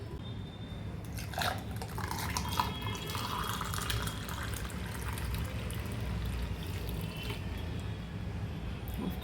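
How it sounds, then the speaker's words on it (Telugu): Melon juice pours steadily into a serving glass for several seconds, a soft continuous trickle over low background noise. "ఇప్పుడు సర్వింగ్ గ్లాస్లోకి వేసుకుందాం."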